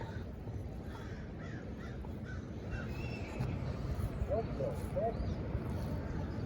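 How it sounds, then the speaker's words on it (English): Crows caw in a bird fight near a river during magnet fishing, with several hoarse calls at mid distance over steady outdoor noise that grows louder later. "It's a bird battle."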